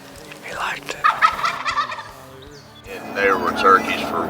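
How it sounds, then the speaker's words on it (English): Wild turkeys gobble in repeated rattling bursts, two clear volleys separated by a short lull, loud and close with more birds answering in the background. "And there were turkeys for a mile."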